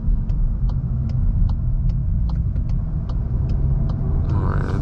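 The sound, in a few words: VW MK8 Golf R engine accelerating onto freeway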